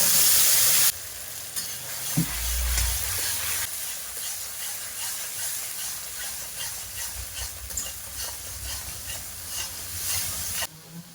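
Mustard paste hits hot oil in a pan for a hilsa fish dish, with a loud burst of sizzling that settles into a steady frying hiss with occasional stirring scrapes.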